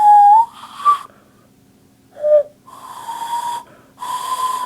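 Air blown through cupped hands in a failed hand whistle makes breathy, wheezy puffs. A few carry a thin wavering tone, in several short bursts with pauses between, close and fairly loud with no talking.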